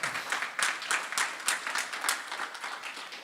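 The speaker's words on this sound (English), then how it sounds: "Let's get another round of applause." Audience applause after a candidates' forum for a 2024 primary, a steady wash of many hands clapping with sharper bursts rising and falling throughout.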